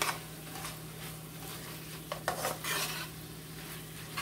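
A spoon stirs tomato paste into spaghetti sauce in a pot, soft scraping and clinking over a faint steady hum, with a few brief louder scrapes midway.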